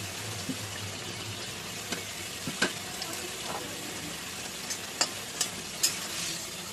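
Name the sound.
doi begun (eggplant in yogurt) cooking in a pan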